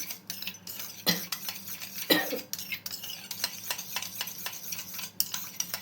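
Homemade yogurt is whisked in a bowl with a spoon or whisk, giving quick rhythmic clinking and scraping taps close up, with a couple of louder knocks and no talking.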